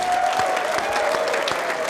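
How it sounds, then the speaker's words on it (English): Audience applause at a live fantasy football event in a Minneapolis venue, a steady wash of clapping held at even loudness for the whole stretch, with a faint tone running underneath. "Give yourself a round of applause."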